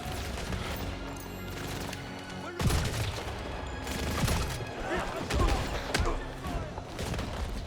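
Bursts of gunfire in a James Bond 007 video game, several shots and volleys cracking out over a steady background of game sound and music, with brief louder impacts around the middle.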